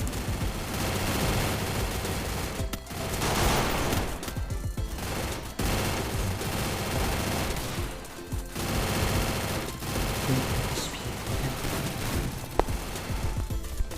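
Rapid gunfire from the Free Fire video game rattles almost continuously, dense bursts of automatic shots with brief pauses, loud and close throughout.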